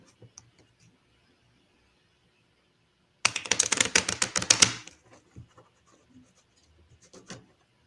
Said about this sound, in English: I'm going to shuffle these two piles together